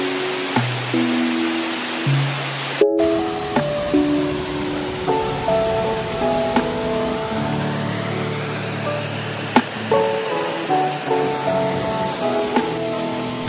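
The Lynn Falls waterfall near Dalry in Ayrshire, Scotland, sends out a steady broadband rush of falling water, while music with a plucked melody plays over it.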